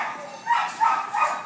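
A white and tan male pit bull at a dog run gives three short barks, close and moderately loud, with people talking in the background.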